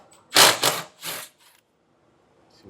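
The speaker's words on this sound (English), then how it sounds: "We can actually just remove these two 13mm bolts" Two 13mm bolts removed from a trailer hitch hanger on a 2024 Mitsubishi Outlander, heard as a few short, loud mechanical tool bursts close by, followed by near silence.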